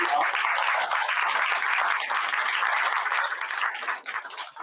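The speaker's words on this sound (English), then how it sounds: "Can we have a round of applause for her?" An audience at a solo graduation performance event applauds a child performer, close, bright and continuous clapping from many hands that thins and turns patchy in the final second.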